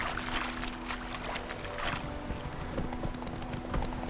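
Roach, the horse in The Witcher 3, gallops steadily with rapid rhythmic hoofbeats, close and continuous over a soft outdoor ambience.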